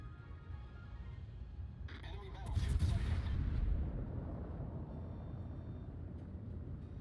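Naval guns of a Tier 9 Japanese Ibuki cruiser fire in World of Warships: one deep booming salvo rumbles out midway and slowly fades, with low engine and sea noise underneath.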